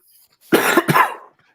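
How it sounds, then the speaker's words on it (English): A man on a podcast coughs, giving a short, harsh burst of two or three close, loud coughs with a throaty rasp, alone in near silence. "going through a coughing fit over here"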